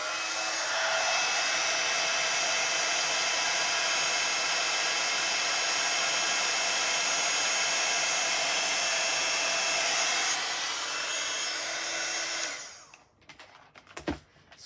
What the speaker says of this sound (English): I'm just going to get the heat gun on again.